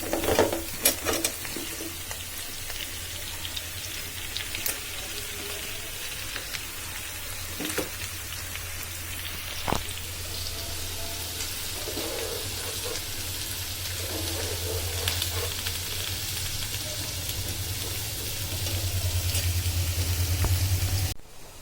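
Cauliflower frying in oil in a pan, a continuous crackling sizzle with occasional utensil clicks and stirring scrapes, growing slightly louder toward the end, no voices.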